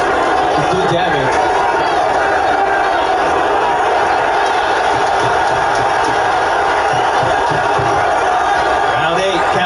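A boxing video game crowd in a Melbourne, Australia arena roars and cheers in a steady, dense wall of noise, with a commentator's voice running over it throughout.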